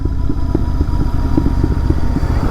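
A Royal Enfield Continental GT650 twin-cylinder engine rumbles loud and close, its low exhaust beat pulsing in a steady rhythm with no one speaking.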